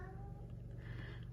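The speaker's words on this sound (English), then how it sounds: "my door is open, so you're probably hearing my cat" A house cat meows in the background of a room, faint and low under a steady hum.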